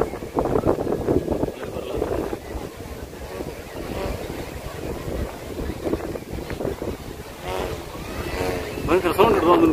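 Wind gusts buffet the microphone and ocean surf rolls in at Tannirbavi beach in Mangaluru during a kite festival, forming a rough, roaring wash with people talking over it throughout.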